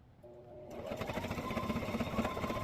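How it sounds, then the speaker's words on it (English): A sewing machine starts up and runs a straight stitch across fabric, its quick rhythmic whirring and clatter rising in loudness up close. "I will take this over to the sewing machine and I'm just going to do a straight stitch across the top"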